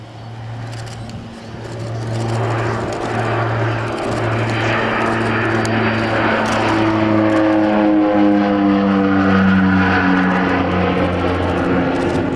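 A 1960s counter-insurgency aircraft built for forward air control, with a pilot and an observer behind, flies at a Shuttleworth airshow: a loud, steady engine drone whose pitch climbs and shifts partway through as it passes, with no talk.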